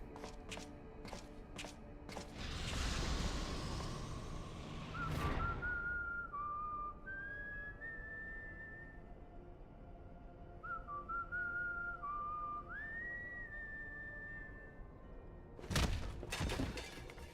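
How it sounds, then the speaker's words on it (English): In Final Fantasy XIV, a character whistles the Garlean theme, a clear melodic tune rising and falling in short phrases, with soft thuds, clinks and footsteps of armour being put on around it. "He's whistling the Garlean theme."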